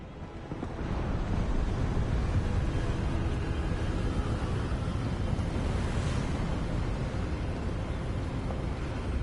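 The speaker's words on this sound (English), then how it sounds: "It's getting windy." Strong wind blows steadily in Hogwarts Legacy, a dense, continuous roar that swells after the first second and stays loud, with no voices.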